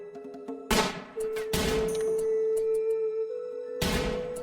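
Several sharp bursts of gunfire crack out in quick succession, loud and close, separated by a sustained electronic tone, in the video game RimWorld.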